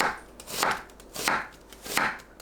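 A knife slicing onion into thin 0.5 cm strips on a cutting board, giving about four crisp, evenly spaced chops close up, with no voices.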